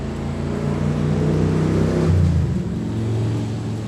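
A motorcycle engine revs nearby on a summer night out, a loud, steady harmonic drone that dips and shifts in pitch midway before settling again.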